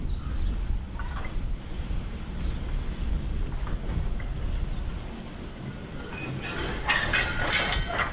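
An OO gauge model Terrier class locomotive, scratch built in the 1950s, runs with a train along a model layout, giving a steady low rumble with a faint clatter that grows slightly louder and brighter near the end, with no talk.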